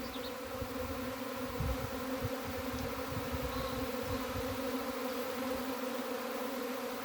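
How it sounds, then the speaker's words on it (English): A honey bee swarm buzzes densely all around, close and steady, in a forest garden; the many overlapping wingbeats form a continuous, unbroken drone that lasts throughout. "now the rest of the swarm has arrived"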